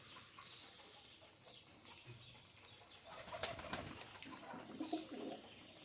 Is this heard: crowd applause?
no